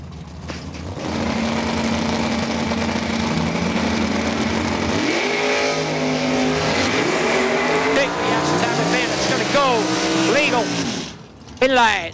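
1967 Nova and 1973 Camaro launching side by side at a drag strip, engines idling and rumbling before revving hard with rising, sweeping pitch, under a track announcer's voice.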